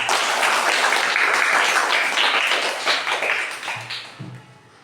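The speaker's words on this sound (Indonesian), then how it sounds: "Oke, tepuk tangan untuk semua." A classroom of students claps together in a dense, steady burst that thins out toward the end, with a few scattered claps trailing off.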